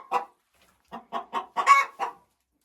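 A laying hen in a chicken coop clucks in a run of loud, close, rhythmic squawks, one call then a pause followed by five quick rising cackles, with no talk over them.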